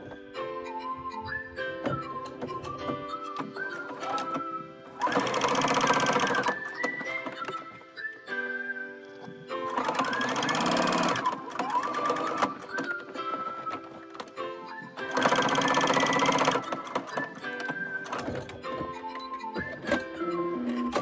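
A sewing machine stitches a fabric wallet cover in three loud, steady bursts of a few seconds each, separated by quieter stretches with a faint whistling tone.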